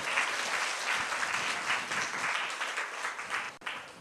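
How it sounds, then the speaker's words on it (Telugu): A church congregation clapping together in praise of God, a dense, sustained burst of many hands applauding at moderate distance, slightly swelling and fading over a few seconds with no clear speech on top. "చప్పట్లు కొట్టి దేవుని స్తుతిద్దాం."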